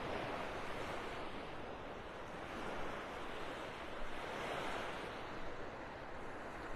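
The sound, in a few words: waves on a beach at Delnor-Wiggins, North Naples, Florida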